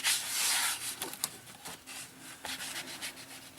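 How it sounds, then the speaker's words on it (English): Cloth rubbed over a painted canvas, soft dry brushing swipes in uneven strokes, a louder sustained rub at first followed by shorter scrubbing passes, close and quiet with no talking. "Then you can take your cloth and kind of just give it a once over, kind of rub it all down."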